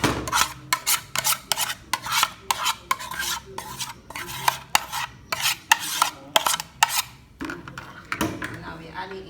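Cooked chicken with yellow noodles and greens scraped and tossed in a bowl, a steady run of rhythmic rasping, rubbing strokes, close and fairly loud, with some faint voice at the end.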